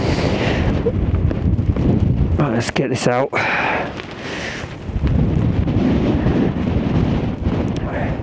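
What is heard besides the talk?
strong wind blowing on microphone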